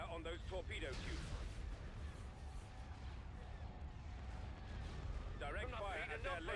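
Starship cannon fire in the space battle game Star Wars: Empire at War, a continuous dense barrage of heavy booming shots with rumbling low end, with a voice talking at the start and end.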